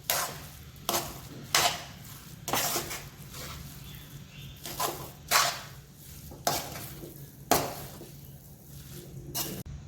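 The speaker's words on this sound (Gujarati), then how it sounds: "ઉપરથી આપણે સેજ ધાણા નાખીને હવે બધું બરાબર આપણે મિક્સ કરી લઈશું" Tawa pulao being stirred and mixed with coriander in a pan, a series of about nine distinct scraping and clinking strokes at a steady rhythm over a soft sizzle, close and fairly quiet.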